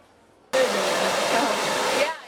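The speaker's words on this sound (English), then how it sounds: "For most people, that's the sound of a blow dryer." A hair blow dryer in a cosmetology program switches on abruptly and roars with a steady, loud, close airflow whoosh for about one and a half seconds, then cuts off, with no talking.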